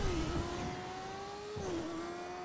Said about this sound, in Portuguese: Essa moto anda muito mal na areia.